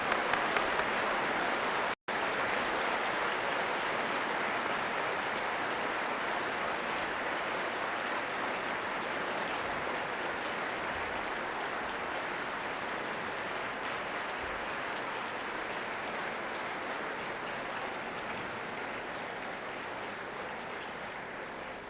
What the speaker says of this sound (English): let's honor him with a round of applause.